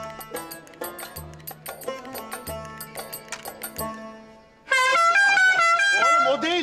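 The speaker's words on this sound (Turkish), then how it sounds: "havalı korna yanımda getirdim" Loud air horn blasts in a rapid, melodic pattern of short honks, then a sustained multi-tone horn tune, very close and dominant.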